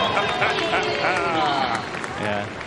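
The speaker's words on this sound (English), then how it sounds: "You'll hear the crowd in a moment when they see this time flash up" Spectators cheer and applaud at the finish time of a kayak slalom semi-final run at the 2023 ICF Kayak Slalom World Championships, a steady roar of crowd noise under a commentator's talk.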